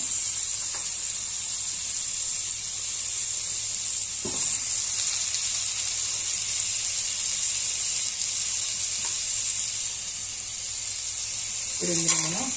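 Butter and whole garam masala sizzle steadily in a hot pan for butter chicken, a constant bright frying hiss with a few soft spoon or pan knocks, and a short voice near the end.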